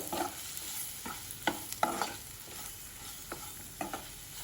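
Chopped capsicum and gram flour frying in a pan, stirred with a spoon that gives several short scraping strokes over a quiet, steady sizzle, close by with no voices.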